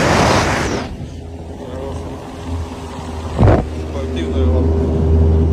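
A sports motorboat runs on the Yenisei river through a city, its engine humming steadily and close, with a brief louder surge midway and rushing wind at the start.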